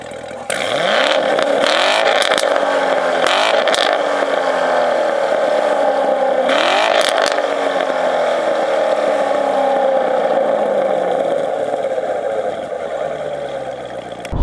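The performance exhaust of a 2014 Chevrolet Corvette Stingray with the Z51 option growls loudly and close, revving up repeatedly through several gear changes before settling and fading toward the end.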